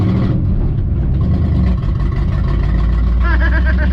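A family car's engine roars loud and close as it revs through a gear change, the pitch rising and dipping briefly before climbing again, with a faint voice near the end.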